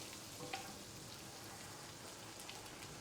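Bolognese meat sizzling as it melts in a pan, a steady broadband frying hiss with faint crackles and soft stirring clicks, fairly quiet and continuous throughout.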